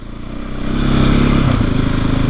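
Off-road motorcycle riding a green lane byway in Surrey, apparently with a soft front tyre: a steady engine drone that builds and holds, close and loud, with slight revving and faint clatter, no voices.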